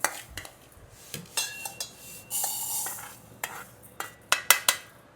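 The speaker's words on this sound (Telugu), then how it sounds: "వీటిని ఇలా గోధుమ రంగు వచ్చే వరకు వేయించుకోవాలి మనం" Spatula scraping and clinking against a pan in irregular strokes, with a soft sizzle of frying underneath.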